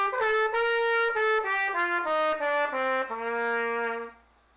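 An instrument plays a major scale as a clear run of distinct pitched notes, each struck and held briefly, stepping steadily across about four seconds before the last note fades.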